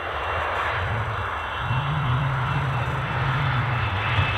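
A plane passing near Edinburgh Airport gives a steady, loud engine roar that swells slightly partway through, with a low drone strengthening and holding to the end, no voices present.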